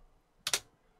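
A brief double clatter of keys typed on a computer keyboard while entering a terminal command on an Ubuntu Linux server, two quick close clicks in an otherwise quiet moment.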